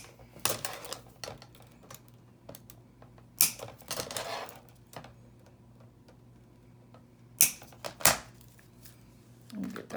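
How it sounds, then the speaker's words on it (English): Wire cutters snip off excess wire while a single petal craft flower is being made: a handful of sharp, close clicks and snaps scattered among quieter handling noises. "take your wire cutters. I'm gonna snip off those extra."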